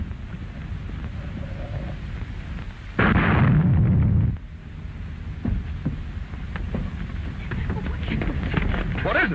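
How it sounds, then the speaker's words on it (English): A car motor blows up in a 1940 film, a sudden loud roaring blast lasting over a second that rises over a noisy, hissing background before fading back to a low rumble. "The motor exploded."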